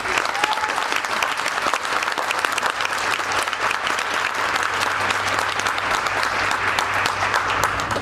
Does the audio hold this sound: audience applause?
yes